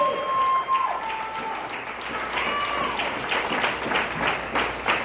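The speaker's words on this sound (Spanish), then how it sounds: "Un aplauso al Señor esta mañana." Church congregation breaks into applause for the Lord during a Spanish-language service, clapping building and swelling over several seconds, with some lingering musical tones and room echo underneath.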